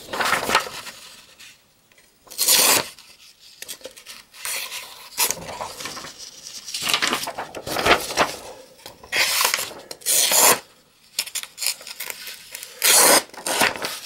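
A Tack Life multi-tool blade cuts a sheet of paper, giving bursts of dry scraping and rasping strokes separated by pauses, close and fairly loud, with no voices.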